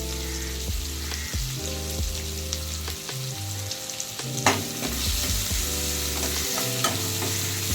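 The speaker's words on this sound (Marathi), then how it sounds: "यात आता आपण टाकलाय कांदा" Two medium onions, finely diced, sauté with chili and curry leaves in hot oil, a steady sizzle with occasional stirring clicks, heard beneath prominent background music with a stepping bass line.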